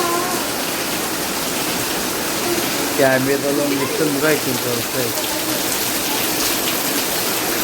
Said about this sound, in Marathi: फुल जोरदार पाऊस आले